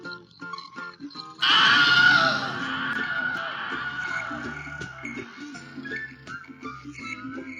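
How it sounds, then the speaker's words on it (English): A Wilhelm scream with added echo, an unused sound from the Angry Birds Seasons and Space video games, bursts in loudly after a moment of light tones and trails off in a long reverberant tail. "The only unused sound is the Willem scream, but with an echo."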